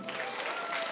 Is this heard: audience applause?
yes